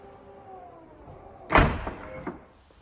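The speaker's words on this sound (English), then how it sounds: "just press the button, tailgate closes" The powered tailgate of a 2020 Volkswagen T6.1 Caravelle swings shut with a solid thud, followed by a couple of softer latching clunks, against quiet background hum.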